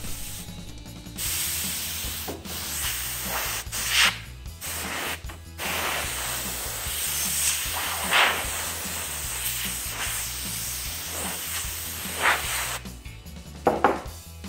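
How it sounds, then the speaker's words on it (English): Compressed air blows dust out of a PS4 console in long, steady hissing bursts broken by a few short gaps and some handling knocks, close and moderately loud with no talking. "use a little cloth or even your compressed air to blow it out a little bit"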